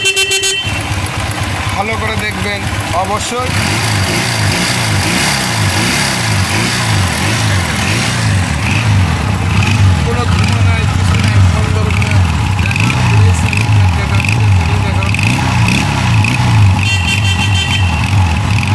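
A Honda Roadmaster 200 motorcycle engine runs close by with a steady, throbbing idle throughout, while someone talks over it.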